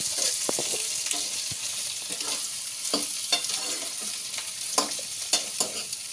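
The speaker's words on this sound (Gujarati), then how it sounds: "આ રીતે બધી મકાઈ નાખી દીધી અને આપણે સરસ મજાનો હલાવી લેવાનો છે મકાઈને" Peeled corn kernels being stirred in a frying pan for chevdo, with repeated spoon scrapes and taps over a steady background sizzle.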